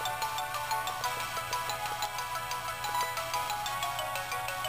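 A telephone ringtone rings continuously on its own, a steady bright electronic trill repeating without pause over a faint background hum.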